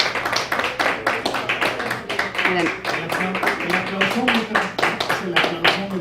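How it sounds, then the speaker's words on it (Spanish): Audience clapping at a talk on a noise-alert meter app, sharp irregular claps repeating steadily close by, with a voice speaking over them throughout. "tienen que aplaudir o hacer ruido para que se vea la diferencia ahorita que lo abramos"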